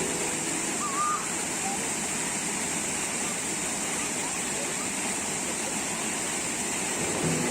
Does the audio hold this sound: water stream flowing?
yes